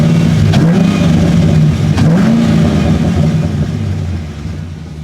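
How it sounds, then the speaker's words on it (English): A Cadillac CTS-V engine revs loudly up close, with a rushing air-filter intake sound and a few sharp exhaust pops, the rumble tapering off toward the end. "just the air coming in through the filter noise and then the pops of the exhaust"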